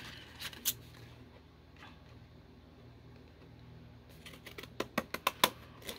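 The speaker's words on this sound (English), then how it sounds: "Let's cut this postage stamp out." Fiskars pinking shears snipping through a paper postage stamp: a quick run of crisp, close cutting clicks near the end, after a quiet stretch with faint handling sounds.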